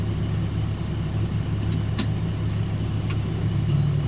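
A truck engine runs with a steady, loud, low idling rumble throughout, close by, with no voices.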